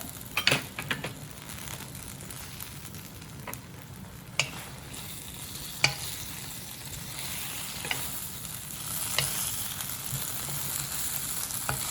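Dried noodles stir-fried with Chinese broccoli leaves in a hot pan, a soft steady sizzle broken by sharp clacks and scrapes of a spatula tossing the food at irregular intervals.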